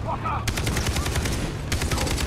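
Rapid automatic gunfire in the video game Far Cry 3 rattles in a fast, dense burst of evenly spaced shots that starts abruptly and continues over constant in-game background noise.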